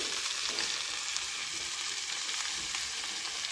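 Chili, ginger and cumin paste fried together in hot oil gives an even, close sizzle with light crackling, steady throughout and with no voices over it.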